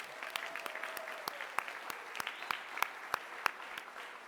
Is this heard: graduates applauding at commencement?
yes